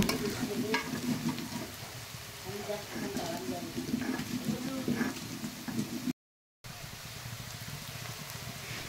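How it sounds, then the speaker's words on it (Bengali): Chopped onions fry in hot oil in a wok at an outdoor picnic, giving a continuous crackling sizzle with stirring scrapes while voices talk over it, then a brief cut and more sizzling. "এবার পেঁয়াজ কুচি দিয়ে ভালো করে ভেজে নেব"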